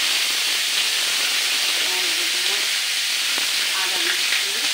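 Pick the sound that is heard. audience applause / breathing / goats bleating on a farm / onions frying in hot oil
onions frying in hot oil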